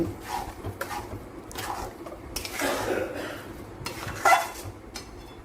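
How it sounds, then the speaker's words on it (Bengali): Moong dal halwa being stirred in a pan as milk cooks down, with irregular metal spoon scrapes and clinks against the pan over a low sizzle, fairly close and without talk. "এবারে আমি সব কিছু নেড়ে আর কিছুক্ষণ সময় ধরে দুধ শুকনো পর্যন্ত"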